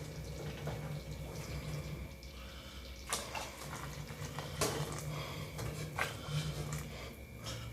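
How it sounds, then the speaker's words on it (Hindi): Hot water is poured into a pan of moong dal pakoda curry, giving a continuous splashing, bubbling rush with a few sharper splashes and sizzles, close by and with no talking. "अब इसके अंदर ना मैं गर्म पानी मिलाऊंगा"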